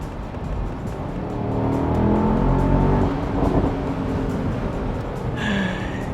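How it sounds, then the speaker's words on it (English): A Mercedes-AMG SL 55 Roadster engine revs and roars with a throaty exhaust, swelling in the middle and settling into a steady drone, close and loud. "you are greeted with that brilliant exhaust note"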